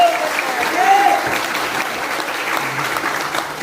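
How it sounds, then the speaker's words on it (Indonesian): A crowd claps together at a Dayak gathering in Borneo, a dense wash of applause filling the short moment, fairly loud, with voices mixed in. "Tepuk tangan NKRI."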